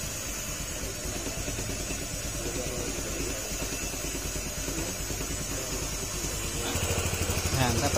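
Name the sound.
Honda Click 150 scooter engine idling after idle adjustment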